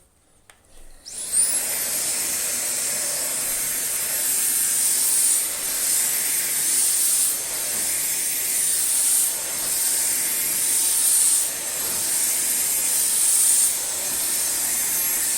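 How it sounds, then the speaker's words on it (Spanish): A Xiaomi Jimmy H9 Pro cordless vacuum cleaner runs with its sofa brush over a sofa. It starts after a moment, then holds a loud, steady, high-pitched whine with slight surges as the brush moves. "Ahora vamos a pasar el aspirador al sofá con el cepillo para sofás"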